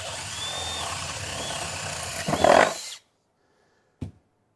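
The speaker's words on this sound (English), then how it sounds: "drill a hole through a 2x4 once in a while" A Milwaukee M12 Fuel subcompact brushless cordless drill bores a large hole through a 2x4, a loud, steady close whine that strains as the bit pushes through, then cuts off abruptly, followed by one brief clunk.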